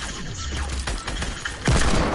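Gunfire in a PS4 shooter game, a dense loud fusillade of rapid shots with a heavier blast near the end, continuous and close, with no voices over it.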